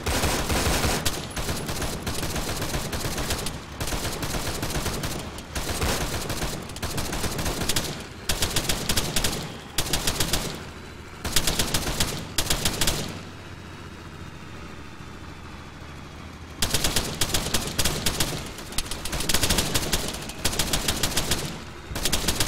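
Heavy video-game gunfire rakes a vehicle in repeated loud automatic bursts, broken by a few seconds of quiet engine hum before the firing resumes.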